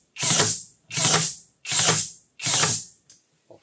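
An 18 V battery-powered cordless nail gun fires four times in a steady rhythm, each shot a sharp mechanical clack with a short whirring tail, followed by a faint click; close and loud, with no voices.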